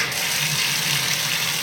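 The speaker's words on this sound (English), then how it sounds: "I just fill up bath with bath water" Hot water runs from a tap into a bathtub in a steady, close gushing rush with no pauses and no talk.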